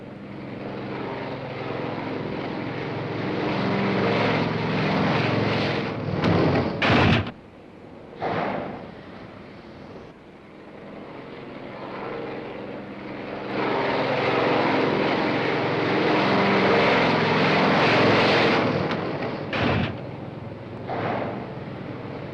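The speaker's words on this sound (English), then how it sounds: "White flag, land aircraft." A propeller airplane comes in to land, its engine droning loud and steady with brief surges and dips, fading away and then building again before a sharp cutoff.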